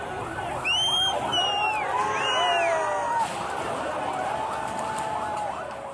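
A fire brigade siren at the Gul Plaza building fire, wailing loud and close in rising and falling sweeps, with a second siren tone overlapping at first and street noise underneath.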